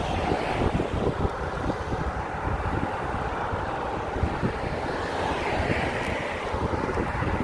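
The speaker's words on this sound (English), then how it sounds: "Wind's kicking up." Steady, loud wind rushing over the microphone during a bicycle ride through Sebastopol, California, a continuous broadband roar with gusty swells and no talking.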